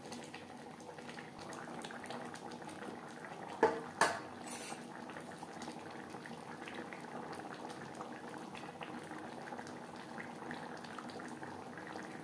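Egg curry gravy bubbles gently in a pan, a soft continuous simmering burble close by, broken early on by two sharp clinks of a utensil against the pan, with no talking.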